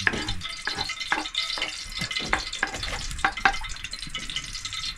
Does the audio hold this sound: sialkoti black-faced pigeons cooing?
no